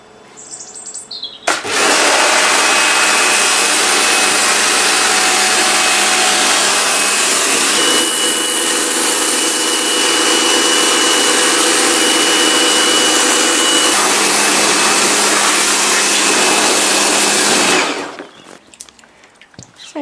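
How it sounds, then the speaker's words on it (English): A pressure washer blasts a wooden garden chair clean, a loud, steady spray hiss that starts abruptly and holds continuously for about sixteen seconds before cutting off, with no talking. "the quickest and easiest way of doing it is by using a pressure hose."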